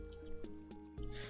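Water rushing up a Minecraft water elevator beside a zombie spawner farm in the video game, a soft bubbling gurgle with a few splashy bursts over a steady background tone.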